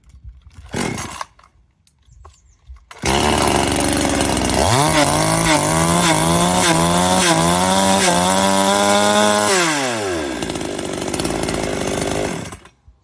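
Chainsaw being compared among a cordless Makita, a petrol STIHL and a Chinese petrol saw: after a quiet start the engine starts, revs up in rising whines, holds a loud high drone, then drops back to idle.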